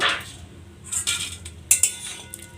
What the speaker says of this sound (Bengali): এবার আমি ঢাকাটা খুলবো।